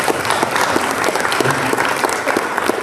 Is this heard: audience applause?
yes